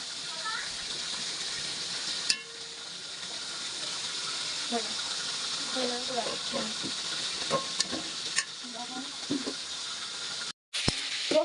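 Beef with ginger, garlic and spices fries and is stirred in a pot, giving a steady hissing sizzle with scraping stir sounds and soft talk in the background.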